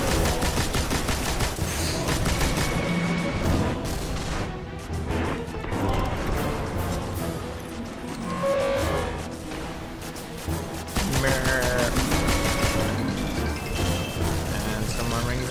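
An LMG in the video game Destiny fires in dense, chaotic bursts, mixed with crashes, impacts and other battle noise, while someone talks over the action.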